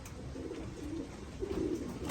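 Racing pigeons coo softly in a loft, low murmuring calls rising a few times over a steady background hiss, faint and without voices.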